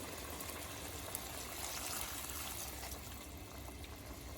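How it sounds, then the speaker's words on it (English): Water is poured into a cooking pot while making Punjabi matar paneer, a soft steady stream of trickling and splashing that sounds quiet and close, with no voices. "And I'm going to put water, boil it, and then in the end boil it on medium heat."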